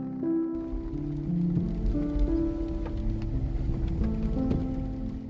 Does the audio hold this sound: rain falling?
yes